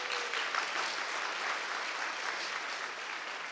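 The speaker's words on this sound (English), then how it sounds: "You're going to be clapping. Keep clapping." Audience applause at a conference welcome session, a soft, dense wash of many hands clapping, distant and fairly faint, holding steady from start to end.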